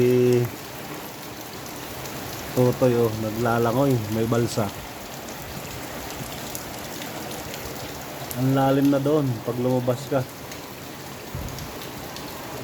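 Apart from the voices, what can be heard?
heavy typhoon rain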